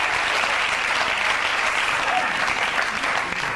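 Studio audience applause welcoming Paul Hester onto a show, a dense steady wash of clapping that stays loud and even throughout.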